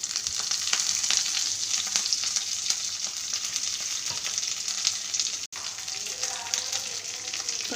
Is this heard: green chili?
yes